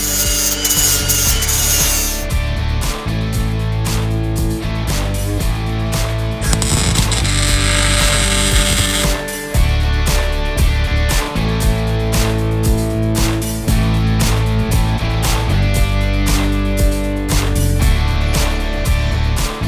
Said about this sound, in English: So I'm going to drill a hole and weld this in.